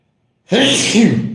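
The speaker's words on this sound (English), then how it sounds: "Sorry, I got to sneeze in a second here." A single loud, close sneeze bursts out of silence, sharp at the start and trailing off into a breathy release.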